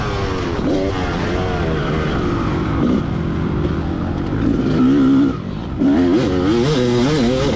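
A 2004 Kawasaki KX250 two-stroke dirt bike engine rides a motocross track, loud and close, revving up and down continuously with warbling pitch changes through gear shifts and a brief dip in throttle.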